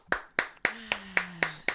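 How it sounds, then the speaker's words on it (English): Seven sharp, evenly spaced hand claps from a single person, close and crisp, each a quick snap that decays fast, with a faint tone running underneath. "Cindy J, I'm going to give you a round of applause"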